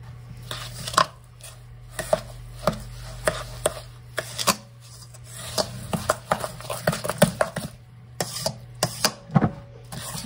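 Salmon burger mixture being worked together with panko breadcrumbs in a bowl, heard as close, repeated soft thuds and scrapes in an uneven rhythm over a low steady hum, no talking.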